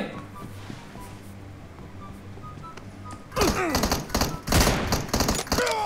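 PUBG gunfire starts after a quiet stretch with faint background noise, then hits as several loud, sharp shots in quick succession near the end.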